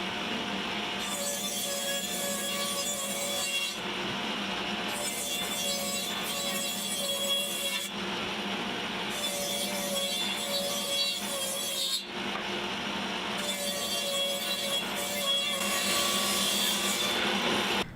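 A saw rips the edges of cedar deck boards being prepared for glued panels, making several long, steady cutting passes at close range, separated by short pauses.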